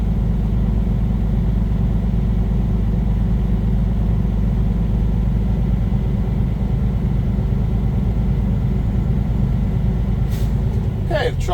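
Idling truck with its air brake system building to full pressure, a loud steady low diesel rumble throughout, then a sharp burst of released air near the end.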